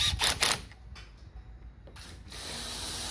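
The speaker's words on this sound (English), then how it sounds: "can hear the key in the ignition." Small metallic scraping and clicking as a key turns in the ignition of a Kia Rio, heard close up as several quick rubbing bursts followed by a steady hiss.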